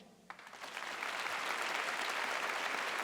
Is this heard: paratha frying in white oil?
no